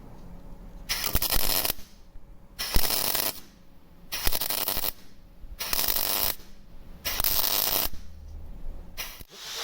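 A power drill whirs in loud, close bursts of a second or so, about five runs broken by short pauses, with no voices.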